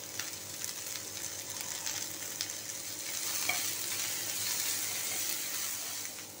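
Bell peppers frying in a pan for veg Hakka noodles, a soft, steady sizzle throughout with light stirring, fairly quiet and without talk.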